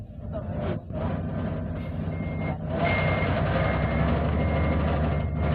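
A six-wheel truck reverses with its backup alarm beeping in a steady loud rhythm over the engine's rumble. The engine roar swells partway through and stays close and continuous.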